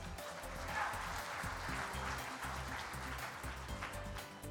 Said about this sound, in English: Let's give these silver division winners a round of applause.